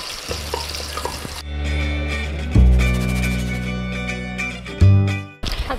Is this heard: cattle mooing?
no